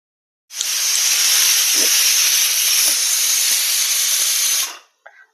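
A pressure cooker cooking goat head meat curry lets out one loud, sustained steam hiss for about four seconds, then cuts off sharply, followed by a faint clink.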